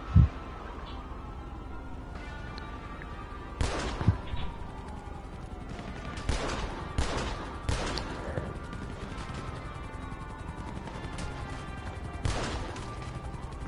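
Several sharp revolver gunshots in an NBA 2K21 game on PS5, sparse bursts spaced a few seconds apart over a noisy game background with faint crash-like impacts.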